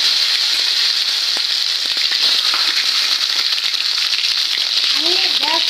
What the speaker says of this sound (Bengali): এই তেলের মধ্যে আমি জিরে দিয়ে নিচ্ছি। তো জিরের মধ্যে দেখো টমেটো দিয়ে নিচ্ছি।